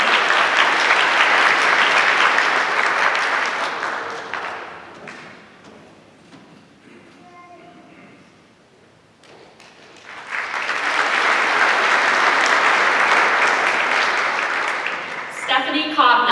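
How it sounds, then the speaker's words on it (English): An audience at a medical school white coat ceremony bursts into loud, sustained applause, fades to near quiet for a few seconds, then swells into a second long round of clapping. "clap."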